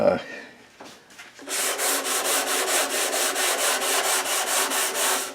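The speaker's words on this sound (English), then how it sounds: "Gets kind of boring watching someone sand something though." A wooden coffee table is hand sanded with sandpaper, giving steady, rhythmic back-and-forth rasping strokes, close and fairly loud, after a few quiet handling sounds at the start.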